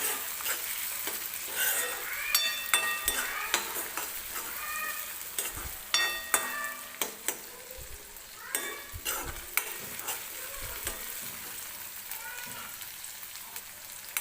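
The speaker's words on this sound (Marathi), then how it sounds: "तर टोमॅटो सुद्धा आपल्याला मऊ होईपर्यंत तेलामध्ये भाजून घ्यायचं आहे छान असं" Tomatoes and onions fry in oil for a Maharashtrian egg curry (anda kalvan). A soft, continuous sizzle sits under repeated sharp clicks and scrapes of a spatula stirring the pan, all heard close up without talk.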